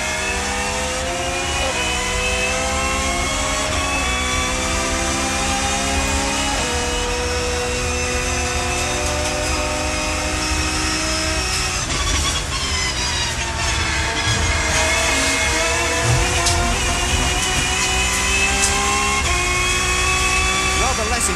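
Touring cars racing at about 135 mph in a 1990s championship: loud, continuous high-revving engine whine with rising and falling pitch through gear changes, close, under a commentator talking.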